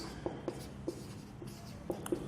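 Pen writing on paper during an accounting lesson, a quiet series of short scratchy strokes in an irregular rhythm, close and faint, with no talk.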